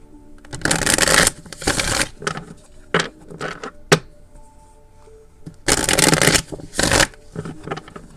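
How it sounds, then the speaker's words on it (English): Tarot cards are shuffled in several loud, riffling bursts, separated by quieter pauses with faint taps. "sorry if it's kind of noisy when I shuffle."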